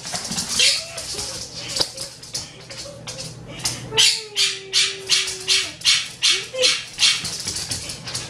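A pet dog at home gives a run of regular, fairly loud barks in quick rhythm, with a few whiny yelps and squeaky cries before, all close by and heard alone.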